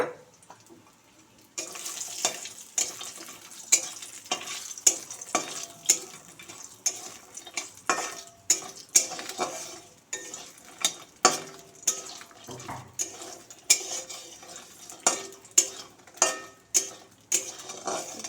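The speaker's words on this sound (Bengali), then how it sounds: "এখন কুমড়ার বড়িটা ভেজে নিব" Pumpkin bori, sun-dried lentil dumplings, frying in a pan, with a steady soft sizzle broken by a regular run of sharp scraping and stirring knocks, close up and without talk.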